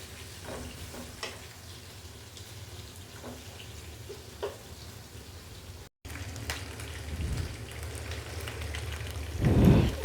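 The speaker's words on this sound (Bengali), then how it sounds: "দিয়ে দিচ্ছি পেঁয়াজ কুচি।" Chopped onion hits hot oil already holding panch phoron, dried chilies and bay leaf, giving a steady, rain-like crackling sizzle with scattered pops that swells louder near the end.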